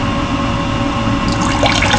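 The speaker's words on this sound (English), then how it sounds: "Dump this water out of there." Water swishing and pouring out of a gold pan while panning fine flour gold concentrate, a steady close splash that rises into a brighter pour toward the end, no talk.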